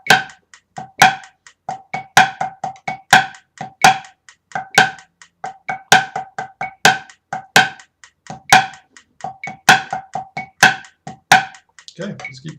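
A pipe band snare drum plays an accent exercise in a steady, repeating pattern of crisp taps with louder accented strokes, close and dry throughout.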